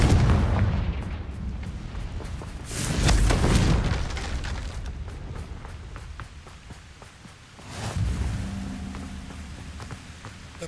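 A Confringo blasting spell in the video game Hogwarts Legacy bursts in two rumbling explosions, a few seconds apart, each swelling and then fading into a low roar.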